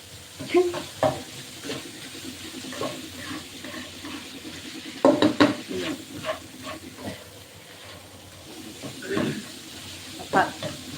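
Minced pork stir-fried in a pan for Thai drunken noodles with wide rice noodles, a steady sizzle broken by intermittent scraping and clattering of the spatula, close and fairly loud.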